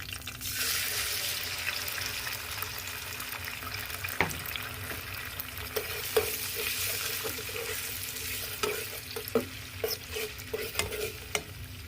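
Egg and onion frying in a pan for fried rice, a steady hiss of sizzling oil with occasional scraping stirs and light clinks of a utensil, fairly quiet and close.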